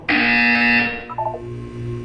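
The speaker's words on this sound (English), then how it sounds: "When you hear the buzzer, look down at the floor." An electronic buzzer from the video game Portal 2 sounds loud and steady for nearly a second, then gives way to a few quieter electronic tones over low background hum.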